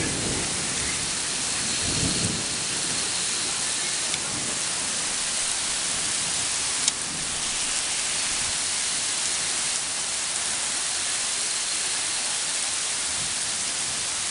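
Summer thunderstorm in Quartu Sant'Elena: steady heavy rain hisses throughout, with low rolling thunder rumbling beneath and a sharp crack near the middle, no voices.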